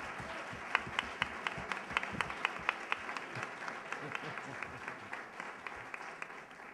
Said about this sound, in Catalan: Un aplaudiment per tota la taula